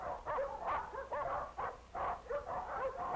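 Several caged dogs in a dog pound bark, yip and whimper in overlapping bursts, loud and close with a busy, restless rhythm.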